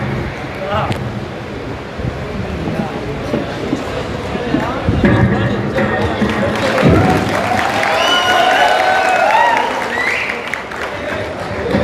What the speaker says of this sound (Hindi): बहुत जोर की तालियों की गड़गड़ाहट में।